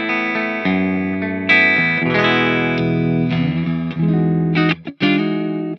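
An electric guitar plays bright, clean chords and single notes with sustained ringing, a short rhythmic strum near the end, no voices.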